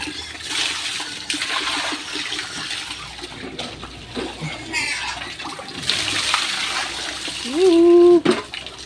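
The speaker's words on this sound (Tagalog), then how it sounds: "Dito tayo tutubig, dito rin naman yung gripo sa gilid natin." Water gushing from a tap beside a backyard pig pen, a continuous splashing rush that swells and fades, with a squealing pig near the end and a voice speaking briefly.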